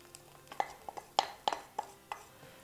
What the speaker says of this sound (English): And then you're just going to stir this through.